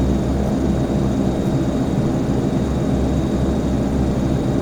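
Cabin drone of a Saab 340 turboprop airliner slowing on approach to land at ENOP, a loud, steady low propeller and engine rumble with no pauses.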